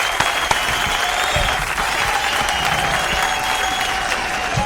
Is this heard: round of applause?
yes